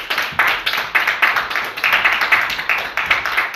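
Church congregation at a Sunday service gives a round of hand clapping in praise, a lively cluster of claps with a loose pulse, close and fairly loud.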